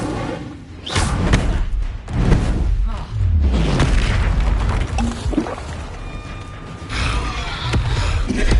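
The Incendio fire spell is cast in the Hogwarts Legacy video game, producing booming, whooshing bursts and heavy thuds in quick succession against a dense, loud game soundscape.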